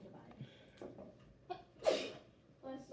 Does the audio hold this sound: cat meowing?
no